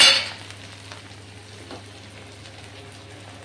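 Spiced onion-tomato masala fries under a clay lid, a faint, muffled low sizzle that holds steady after a brief louder clatter at the start.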